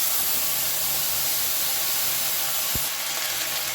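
A spoonful of ground ginger paste goes into a hot pan with fennel seed tempering over a medium gas flame, giving a steady close broadband sizzle and hiss throughout with one brief low thump partway through.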